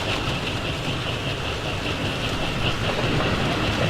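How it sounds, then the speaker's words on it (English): A train rolls past in the World War II game Hidden and Dangerous, a dense continuous rumble with faint clickety-clack, loud and near throughout with no voices. "Let's be careful with the train coming our way."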